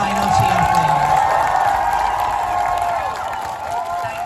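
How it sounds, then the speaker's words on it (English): A crowd at a trans youth protest rally in Leeds cheers and whoops loudly and steadily, a dense roar of many voices close by, with a speaking voice briefly over the start. "Can we get one final cheer, please?"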